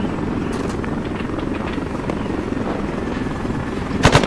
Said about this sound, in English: Level the helicopter, start circling around the area.